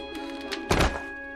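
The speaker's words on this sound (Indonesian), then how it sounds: "Gillian yang sedang marah langsung mendorong pintu yang membuat Tatiana terjatuh" A door in a film is shoved hard against a person and knocks them to the floor, landing as a single loud, close thunk with a brief thud after it. No one speaks.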